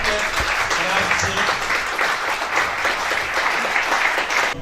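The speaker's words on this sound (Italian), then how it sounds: "Quindi applauso ancora forte, grazie." Theatre audience applause at a Sicilian-language staging of Greek tragedy, loud and sustained, a dense continuous clapping from a full crowd with no pause.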